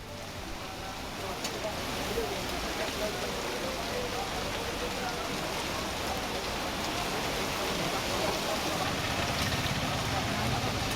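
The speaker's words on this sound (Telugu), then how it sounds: "ఒక మోస్తరు వర్షం కురుస్తోంది" Dense, constant hiss of heavy rain pouring down in Hyderabad, steady throughout with no breaks.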